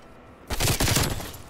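Rapid automatic gunfire from a sentry gun in Call of Duty Cold War erupts after a quiet half second, a dense burst of shots sustained and fairly loud to the end.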